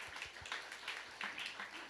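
Soft applause from a church congregation during a Sunday worship service, scattered hand claps blending into a faint, uneven patter at a distance.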